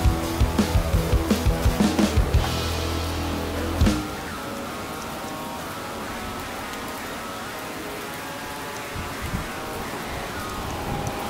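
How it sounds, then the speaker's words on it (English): Steady rain pours down during a storm in France in a dense hiss, with a few sharp knocks and a brief thump early on, then continuous heavy rainfall. "So it's a small storm, raining storm."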